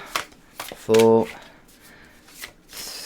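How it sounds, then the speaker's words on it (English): A deck of tarot cards gets a riffle shuffle, a brief loud whirring flutter of cards close up. A person talks before and after it, counting through the shuffles. "let's give these 5 shuffles"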